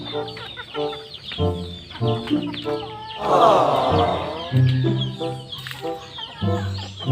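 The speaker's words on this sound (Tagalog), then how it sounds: "Pagkain tayo ng manok." Chickens being raised for food cluck repeatedly in a steady, close chorus of short calls, with no talking heard.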